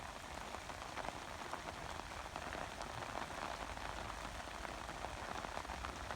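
Steady rain pours down over open pastures with cattle, a dense, even hiss that holds without a break for the whole stretch, with no voices.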